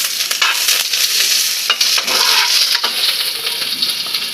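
Chopped onions sauté in a hot pan for a Filipino pork dish, a continuous bright sizzle broken by stirring scrapes and clinks, close and fairly loud.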